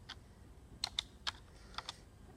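Fingers tap on a computer keyboard, giving a handful of light, distinct keystrokes at an uneven pace, quiet and close against a faint background.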